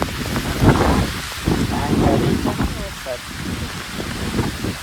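Steady rain with gusting wind in an open field in Botad village during harvesting of cluster beans, a broad wash of noise rising and falling throughout while people talk over it.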